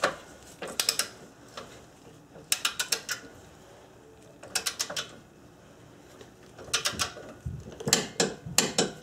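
A hand ratchet or torque wrench tightens a castle nut on a car's lower ball joint, giving short bursts of crisp, rapid clicks in separate groups with pauses between, close up and alone.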